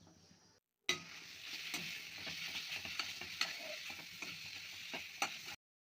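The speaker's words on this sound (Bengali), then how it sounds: "অল্প জল দিয়ে দিলাম মশলাটা ভালো করে কষানোর জন্যে" Spice paste for ghugni with egg sautés in a pan with a little added water, giving a steady close sizzle broken by sharp spatula clicks and scrapes as it is stirred.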